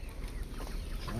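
Native country chickens cluck faintly amid steady, noisy surroundings, a short stretch of low farmyard calls.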